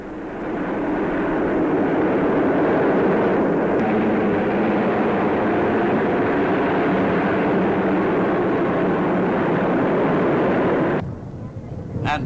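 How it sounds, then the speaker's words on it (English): Canberra bombers of a 1953 RAF flypast roar overhead in a loud, steady jet rumble that holds for about eleven seconds, then cuts off abruptly. "They were followed by the famous Canberra bombers."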